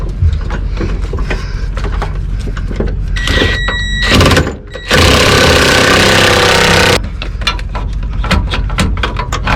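Mechanical work on a ZR2's Super Springs suspension, heard close up: fast ratcheting clicks and metallic clatter around a loud sustained hiss-like burst of noise in the middle, with no clear talking.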